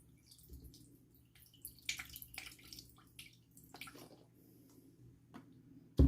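Store-bought chicken broth pours from a carton, with quiet irregular splashes and drips that end in a sudden loud bump.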